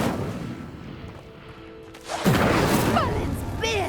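Incendio, a fire spell cast in the Hogwarts Legacy video game, erupts as a sudden loud burst after a quieter rumble, then roars on with crackling fire and sweeping, whooshing magical tones.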